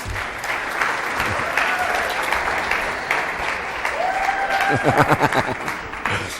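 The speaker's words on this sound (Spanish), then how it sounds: "Un aplauso para ellos." A crowd applauds steadily, the clapping growing stronger and more distinct toward the end, with a voice briefly heard over it.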